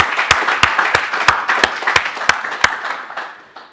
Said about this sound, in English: I would say like a quick round of applause for him.